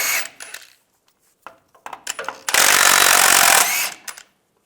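A power tool with a 21mm socket spins differential nuts off a 2007-2013 Chevy Silverado, loud short bursts close up, then one sustained run of about a second before a few brief blips.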